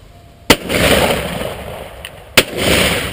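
Shotgun firing at clay targets on a sporting clays course, two sharp loud blasts about two seconds apart, each trailing into a long outdoor echo.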